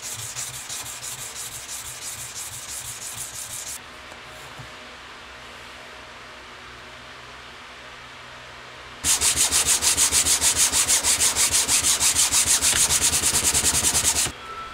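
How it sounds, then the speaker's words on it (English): Steel knife blade sanded by hand with coarse 60 grit sandpaper, loud and close, in steady rapid back-and-forth strokes; a long stretch of rubbing, a quieter pause, then a second vigorous burst. "Start with a 60 grit sandpaper to remove scratches from filing"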